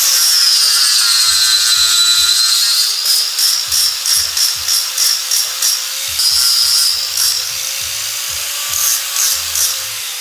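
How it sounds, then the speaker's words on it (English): A small grinder whines high and steady, then pulses in repeated short passes as it smooths a divot on a homemade engine part; close and fairly loud, with no talking. "I might be able to grind that down and get away with it"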